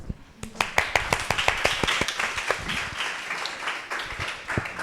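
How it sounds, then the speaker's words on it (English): A small audience at an academic biology program claps after student presentations: scattered, distinct hand claps at close range, fairly loud and uneven in rhythm, with some voices under them as the clapping thins out. "Oh, we should clap, yes."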